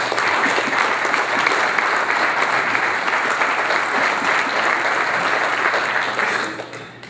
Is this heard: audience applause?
yes